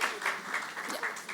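Audience clapping at a press event for a celebrity cricket league, a brief, moderately loud patter of many hands, fairly even throughout.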